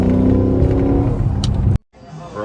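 A Chrysler 300 SRT car drives by, a loud revving engine roar that builds and then cuts off abruptly near the end, leaving a quieter background.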